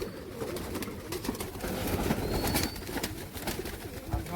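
Pigeons coo repeatedly at a bird market or loft in Rajshahi, Bangladesh, where local Giribaz and Pakistani flying pigeons are kept, with a soft, layered cooing close by over light background bustle.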